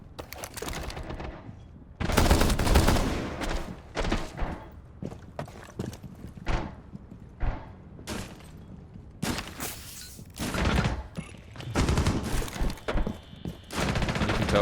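Rapid video-game gunfire in bursts, loud and close, with sharp cracks clustered around the start and several later volleys separated by short pauses; no voices.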